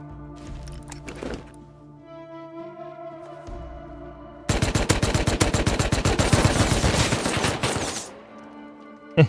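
Thompson submachine gun firing in the video game Rust, a sustained automatic burst of rapid, loud shots lasting several seconds, following quieter game ambience.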